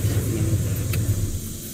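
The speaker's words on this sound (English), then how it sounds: "Go ahead and turn the truck up for me for a second." A pickup truck's engine runs with a low, throaty rumble and a mild rev swell, steady and close before easing slightly at the end, with no one speaking over it.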